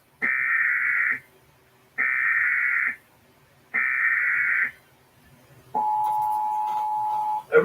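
US Emergency Alert System broadcast on television: three short, identical buzzing data bursts with even gaps, followed by a long, steady, piercing alert tone.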